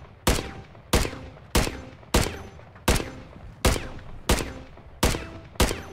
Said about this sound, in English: It plays notes when you shoot.